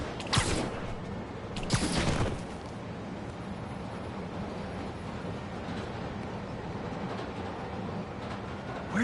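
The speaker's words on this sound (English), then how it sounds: "Tapping into the train system should help me follow the train's path." A train rumbling along its track in the Spider-Man PS4 video game, a steady mid-level roar of rolling rail noise, with a couple of louder bursts near the start before it settles into a continuous drone.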